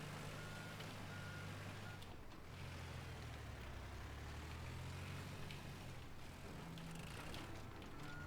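A monster truck in the Teardown video game gives off steady, repeated reversing beeps over a constant engine rumble, lasting throughout with no talking.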